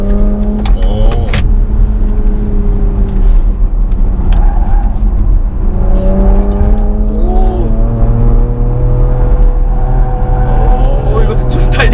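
Porsche SUV engine pulling hard around the Inje race circuit, heard from inside the cabin: a steady loud drone with rising and shifting pitch as it accelerates, with occasional voices over it.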